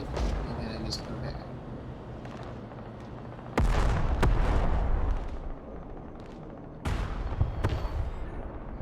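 Hostile missiles firing and striking in the Broken Arrow military strategy game, a steady rumbling battlefield bed broken by sharp loud blasts around the middle and near the end, with a voice talking underneath.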